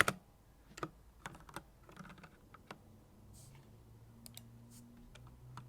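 Computer keyboard typing code for a Node.js and MongoDB CRUD API, scattered quiet key clicks in short irregular bursts with pauses, close and faint over a low background hum.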